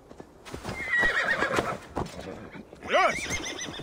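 Hooves clip-clop close by, then a horse gives a loud, wavering neigh near the end in the video game Assassin's Creed Valhalla; no talk.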